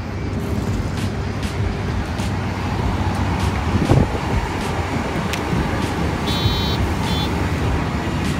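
A bus approaching on a road near the Grand Mosque in Abu Dhabi, its engine rumble steady and fairly loud within continuous traffic noise, with no talking.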